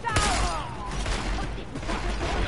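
Gunfire in Deus Ex: Mankind Divided, a shotgun among the weapons, heard as a few loud shots over a dense background of game noise and action.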